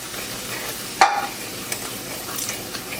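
Turmeric and curry powder being stirred into a simmering pot for Jamaican curry turkey neck, a soft sizzle with a single sharp scrape of the spoon followed by lighter stirring knocks, close by.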